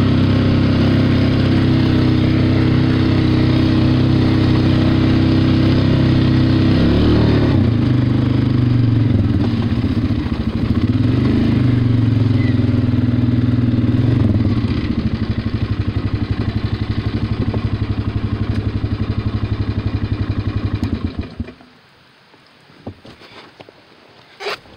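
A Polaris Magnum 500 ATV runs in two-wheel drive, its engine close and loud with a steady, slightly fluctuating clattering drone for about twenty seconds before cutting off abruptly, leaving only faint clicks and near silence.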